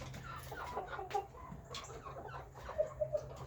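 Faverolles chickens settle on the roost in the evening, soft low clucks and murmurs with a few brief higher chirps near the end, faint against a steady background hum.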